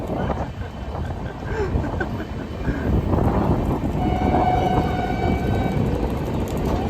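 A Prasanthi Express train running after leaving Nidadavolu, heard from inside an AC three-tier coach as it overtakes the Sarkar Express: a loud continuous rumble of wheels on track with wind noise and a faint whine, no talk.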